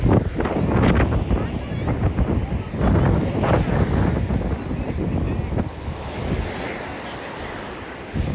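Ocean surf rolls in steadily at Bondi Beach, Australia, with loud wind buffeting the microphone throughout and a continuous roaring wash with no clear breaks between waves.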